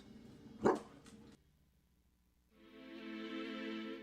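A dog gives a few quick close barks, followed by a pause and then a sustained droning tone that fills the rest of the moment.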